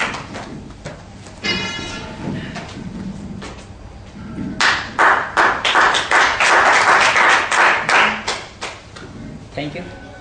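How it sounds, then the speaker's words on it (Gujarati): Audience at a Soni India Business Academy soft skills course event bursts into loud, sustained applause for several seconds after a stretch of quieter talk and scattered claps, then fades. "મારા માટે તાળીઓ વગાડી એના માટે."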